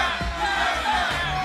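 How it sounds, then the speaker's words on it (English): Cloud9 fans chanting in a packed LCS arena crowd at the 2014 North American final, a continuous, loud roar of massed voices with no clear individual words. "Cloud9 chants are starting to overpower the disheartened TSM fans in the crowd"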